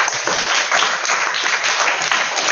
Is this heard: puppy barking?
no